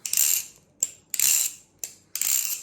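Dry metallic clacking and rattling of unoiled balisong knife handles with sanded bushings, in quick bursts, about five swings with short gaps, close and crisp with a scraping whir in each.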